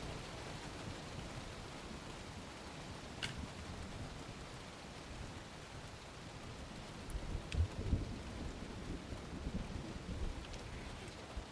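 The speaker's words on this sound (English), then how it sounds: "So we're just standing in the rain" Steady rain falls throughout at moderate level, with a few faint, low rumbles around the middle and later that suggest distant thunder.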